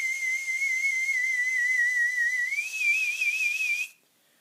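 A voice imitates the Doctor Who sonic screwdriver with a steady high wavering whistle, wobbling quickly and rising in pitch partway through, then stopping abruptly.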